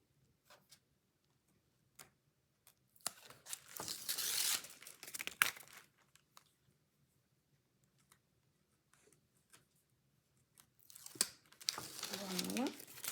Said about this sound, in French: On retire le double face qui reste.